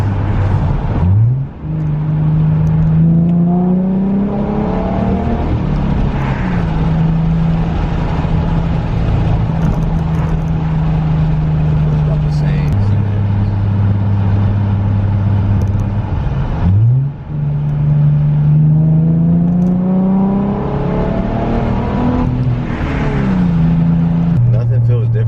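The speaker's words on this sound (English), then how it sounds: "I was gonna downshift in a second and see what it's like." Ford Mustang fitted with an SCT X4 tuner, heard from inside as the engine holds a steady drone, then rises and falls in revs with shifts, blipping around gear changes, loud and close throughout.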